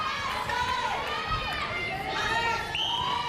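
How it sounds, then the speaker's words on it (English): South Australian crowd at a netball match reacting in a continuous loud roar of voices and shouts, with whistles and cheers rising over the steady din. "we can hear what the South Australian crowd think about Nat Von Berto staying out there"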